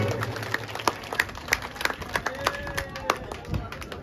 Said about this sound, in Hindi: अगर अच्छी लगी हो तो एक बार जोरदार ताली के द्वारा आप सभी बताएं।